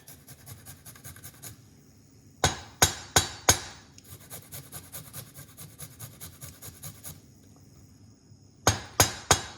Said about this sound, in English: keeping your ginger in the freezer, grate it from frozen.